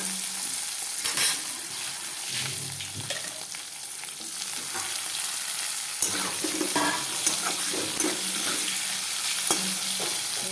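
Eggplant frying in oil in a pan, a continuous loud sizzle with occasional scrapes of stirring, close up and without talk.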